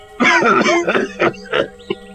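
An old man coughs and clears his throat in a few rough, close bursts, then falls quiet.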